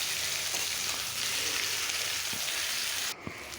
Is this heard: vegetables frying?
yes